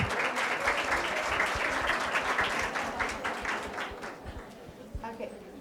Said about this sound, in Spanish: un aplauso para Fabiola, por favor